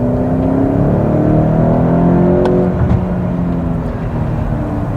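A BMW X6 M F86 with a 4.4-litre twin-turbo V8 accelerates, a loud, sustained engine drone heard from inside the cabin as it climbs steadily in pitch.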